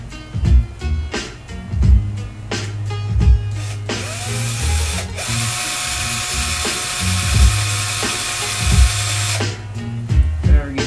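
Power drill wrapping long wire coils, its motor whirring in short bursts and then in one sustained high-pitched run of several seconds, close and clear with handling noises between runs.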